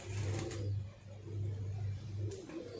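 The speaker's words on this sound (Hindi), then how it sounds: "ये देख लें आप सब कबूतर" Pigeons coo in low, throaty repeated phrases, several soft pulses in a steady rhythm, close by and fairly quiet.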